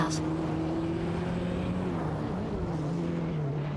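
Video-game race cars, a Mazda RX-7 IMSA GTO and an Audi 90 Quattro IMSA GTO, drone steadily with sustained engine tones that rise and dip slightly, a continuous close mechanical roar under faint talk.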